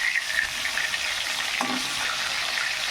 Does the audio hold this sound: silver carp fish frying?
yes